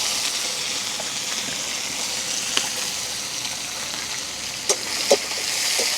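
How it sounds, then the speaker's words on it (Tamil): Small onions and green chilies sauté in hot oil, a steady broadband sizzle throughout, close and moderately loud, with a few faint utensil clicks stirring the pan. "இந்த வெங்காயமும் பச்சை மிளகாயம் வந்து அப்படியே வதங்கி கொண்டு வரட்டுங்க எங்களுக்கு"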